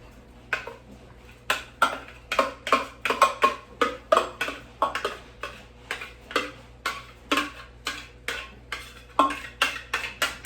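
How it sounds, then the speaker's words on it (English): Rapid rhythmic clinks and scrapes of a spoon against a bowl as ingredients are mixed with yogurt, steady and fairly close, with no talking. "And we are going to go ahead and mix these in."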